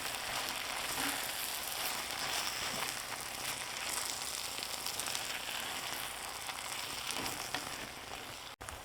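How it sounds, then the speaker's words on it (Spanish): Steady, loud sizzling of chili strips frying in hot lard in a clay pot, continuous crackle throughout with no voices. "agregamos las rajas y continuamos friendo"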